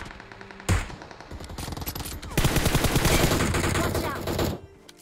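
Rapid bursts of gunfire crack loudly and continuously in a BGMI battle-royale firefight, dense overlapping shots from close range with a heavier volley in the second half, then cutting off near the end.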